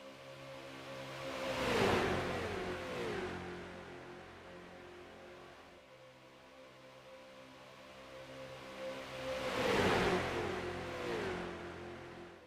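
Street stock race cars roar past on an oval during a WORC Keystone Corner Street Stock Series race, engines swelling loud as the pack passes close, fading, then surging again with a second pass.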